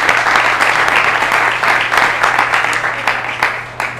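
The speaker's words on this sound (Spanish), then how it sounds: "un aplauso para ellos" Steady, loud applause from an audience at a talk on electronic music machines, many hands clapping densely for a few seconds before starting to thin out.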